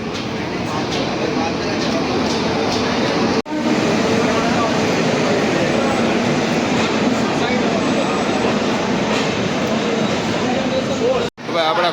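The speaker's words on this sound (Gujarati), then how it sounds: "મિત્રો આપણી ટ્રેન આવી ગઈ છે હાપા મડગાંવ સુપરફાસ્ટ એક્સપ્રેસ" The Hapa Madgaon Superfast Express 22908 stands at a station platform, arriving fifteen minutes late, with a continuous heavy rumble of the train and a busy murmur of voices around it, with two short dropouts.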